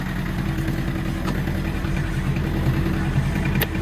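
A small Mitsubishi MT 24 tractor engine chugs steadily at a low idle-like rumble while driving, close by and continuous, with a couple of faint clicks.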